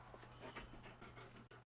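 Dogs pant rapidly up close after coming back from outside, a quick rhythmic huffing that runs for over a second before cutting off abruptly into silence.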